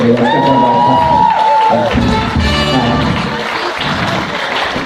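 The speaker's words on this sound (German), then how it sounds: "jetzt könnt ihr mal alle klatschen" A crowd at a live comedy show claps and cheers loudly at close range, with shouts and singing voices mixed into the dense noise.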